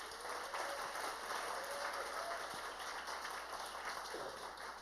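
A congregation at a Friday church worship service breaks into steady, dense applause that fills the room for the whole stretch, a broad wash of many hands clapping at once with no pauses.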